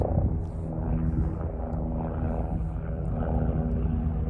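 An airplane passing overhead gives a steady, droning low rumble that fills the whole clip at an even loudness, with no voices over it.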